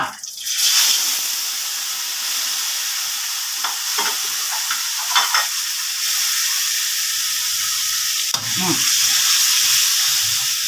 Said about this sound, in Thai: เอาหมูสามชั้นลงไปผัดเลยพี่นาะ